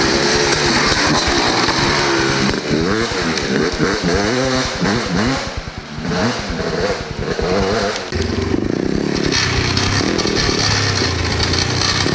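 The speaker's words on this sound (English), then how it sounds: "Oh, his chain is sure rattling against something." Dirt bike engines roar loud and continuous at a hare scramble race at Hollister Hills, with metallic chain rattle mixed into the revving as bikes pass close by.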